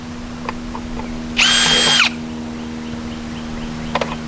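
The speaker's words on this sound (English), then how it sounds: "Now we're going to drill the last 2 holes in this" A power drill whirs briefly for under a second while boring a hole in a flat part held down to keep it from moving, amid a quiet workshop with faint clicks.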